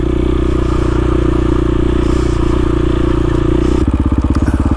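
A KTM motorcycle rides over icy rocks in snow, its engine droning loud and close with a steady throb that turns into a choppier, pulsing beat near the end, along with faint clatter from the rough ground.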